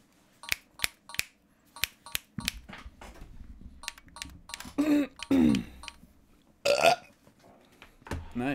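A cartoon knight's burp from Castle Crashers Remastered, heard several times as short, loud belching bursts amid clicky game effects, including a couple of longer drawn-out gurgling belches.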